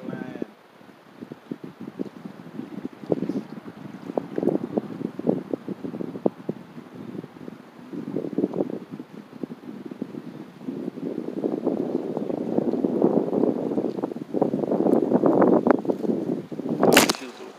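Gusty wind buffets the microphone outdoors at a fishing spot, rumbling in uneven bursts that grow stronger and more sustained toward the end.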